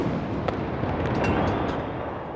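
Ceremonial gun salute at Paul Kagame's 2024 presidential inauguration: a loud, dense outdoor rumble of blast and echo runs throughout, broken by a few sharp cracks, with no voices.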